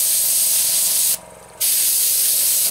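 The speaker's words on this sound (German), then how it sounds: "Und wenn ihr dann auf eure Hand drauf sprüht" An airbrush gun sprays onto a hand while being cleaned, giving close, steady hissing bursts, with one short break before the spray resumes and cuts off again.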